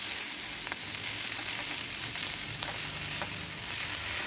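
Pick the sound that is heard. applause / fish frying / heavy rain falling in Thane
fish frying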